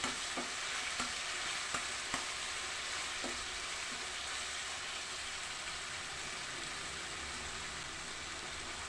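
Onions fry in a pan for a capsicum vangi bath gravy, a continuous dense sizzle with a few sharp spatula taps and scrapes near the start, close and even throughout, with no voices.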